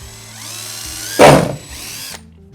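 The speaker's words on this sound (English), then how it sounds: "We're going to start by drilling a small hole with a 3/16 drill bit here at the end of the foot brace" A 3/16-inch bit drills a small hole through the hull of a Bonafide SS Series kayak near the foot brace, a short, loud whining power-drill burst rising over steady low background hum.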